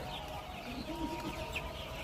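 Color Bird broiler chickens, about 43 days old, clucking softly during weighing, a low continuous murmur of fowl calls with a few faint higher squawks in a noisy shed.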